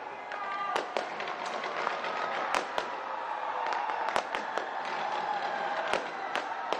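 A New Year fireworks display booms and crackles in repeated sharp bursts at irregular intervals, over a continuous roar of a crowd gathered to welcome the year.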